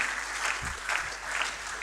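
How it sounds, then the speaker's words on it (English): An audience at a QHSES leadership event claps in a dense, continuous round of applause that swells and dips slightly. "A round of applause for her, please."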